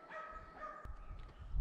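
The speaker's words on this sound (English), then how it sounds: "There's a dog barking over there." A dog barks faintly in the distance at a day-use park area near Redoso, with a few soft, far-off yips followed by a dull thump over quiet outdoor ambience.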